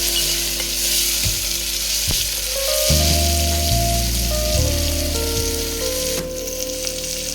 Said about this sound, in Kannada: ಟೊಮೆಟೊ ಹಾಕಿ ಸ್ವಲ್ಪ ಫ್ರೈ ಮಾಡಬೇಕು.